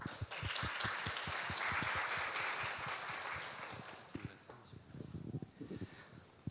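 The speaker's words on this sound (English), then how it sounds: "Please welcome Dr. Jang with a warm round of applause." Audience applause welcoming a speaker at a 20th anniversary ceremony of the Institut Pasteur Korea, a steady round of clapping from a crowd that gradually thins into scattered claps.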